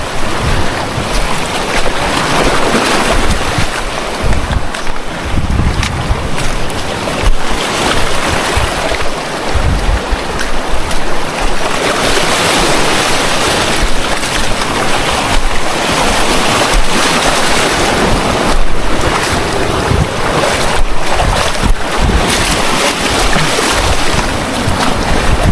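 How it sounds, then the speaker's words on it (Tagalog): Strong ocean waves break near the shore, a loud continuous roar of surf mixed with heavy wind buffeting the microphone, with no clear voices. "Lakas pa rin ang alon."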